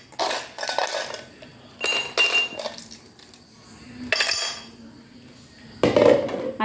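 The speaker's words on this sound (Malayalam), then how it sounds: "ഐസ് ക്യൂബ് ഇട്ട് കൊടുക്കാം." Ice cubes drop into two containers in bursts of sharp clinks and clatters, several separate clusters spaced across the moments, close and bright in a kitchen with no talking.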